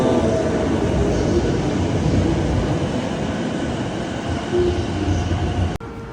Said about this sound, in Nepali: म जाने ट्रेन आयो।